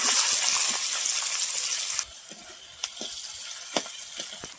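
Chopped onion and ginger paste drop into hot oil in a pan with a bay leaf, a loud burst of hissing frying that cuts off sharply midway, followed by quieter sizzling and a few sharp clinks of a spoon.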